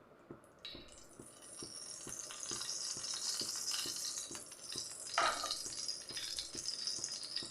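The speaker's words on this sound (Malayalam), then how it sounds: "അതിലേക്ക് നമുക്ക് ഒരു 2 ടേബിൾ സ്പൂണ് നെയ്യ് ചേർത്ത് കൊടുക്കാം" Two tablespoons of ghee heating in a pan on a gas stove: a soft, steady sizzle building up, with faint regular ticking and a brief utensil scrape partway through.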